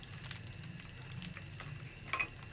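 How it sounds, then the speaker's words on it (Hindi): Whole garam masala of green cardamom, cloves and black peppercorns crackling in hot oil for a qeema recipe, a steady low sizzle with scattered small pops and one brighter crackle near the end, close and alone. "जैसे ही गरम मसाले छटकने की आवाज़ आ जाएगी"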